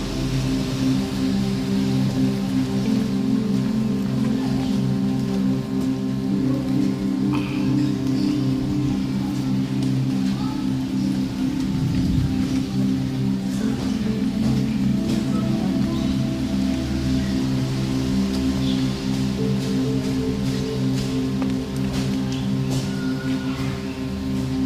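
Steady rain falls outdoors at the Tabet Winduherang site in Kuningan, a constant even hiss with a low background hum, unbroken for the whole stretch and free of talk.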